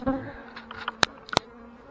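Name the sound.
honey bees buzzing around hive during inspection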